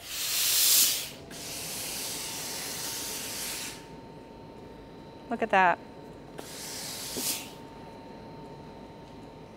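Steam hisses from a Laurastar pressing board setup as fabric is steamed, with the board's fan pulling the steam through: two strong, close bursts and a longer softer stretch between them, under a voice.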